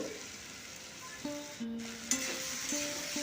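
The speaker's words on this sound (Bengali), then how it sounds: "আর একটু জল দিয়ে দিলাম যাতে আমি শুকনো মশলাগুলো ভালো করে কষতে পারি" Ground turmeric, cumin and coriander frying with a splash of water in a pan for a cauliflower and soybean curry, a quiet steady sizzle with several light spoon scrapes and one sharper clink.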